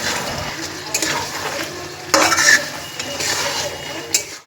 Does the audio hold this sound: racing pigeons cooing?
no